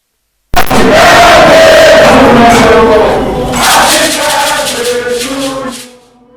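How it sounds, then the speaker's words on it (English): A room full of people greeting the President of Ghana with loud cheering and shouts that burst in abruptly, ring out strongly for a few seconds, then ease off and cut away. "A round of applause to Mr. President"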